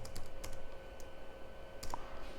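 Sparse clicks of a computer keyboard as C program code is typed, a few scattered keystrokes at close range with quiet gaps between them.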